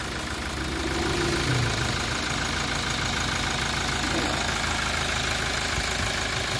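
Toyota Innova E engine idling under the open hood, a steady even mid-low hum running continuously at close range with a brief voice over it early on.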